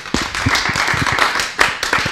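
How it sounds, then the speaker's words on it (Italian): Scattered clapping from a small group at a poker tournament, brisk irregular claps close by with no voices. "un bellissimo applauso ai tre vincitori del side event"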